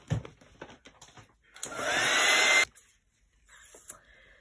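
A hair dryer whirs to dry acrylic paint on glossy paper, a loud steady blowing roar for about a second before cutting off, framed by quieter handling noises.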